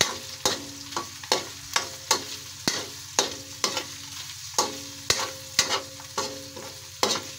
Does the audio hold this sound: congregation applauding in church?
no